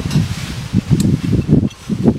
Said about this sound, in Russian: Сорвался на улице ветер.